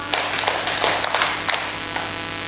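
Several sharp hand claps sound in a classroom clapping game, spaced irregularly in a small group of about five against a steady background hum.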